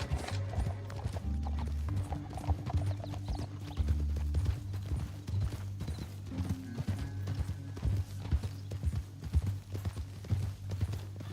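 Steady horse hooves clip-clopping at a walking pace in Cyberpunk 2077, with occasional horse snorts over a constant low synthetic hum of game ambience.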